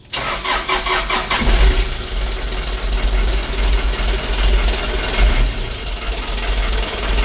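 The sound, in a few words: Hino Dutro 130 HD truck engine starting and revving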